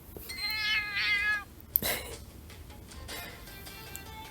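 A cartoon cat meows in the mobile game Dragalia Lost, sounding two bright, drawn-out meows close up, followed by a sharp click and softer game sounds and music.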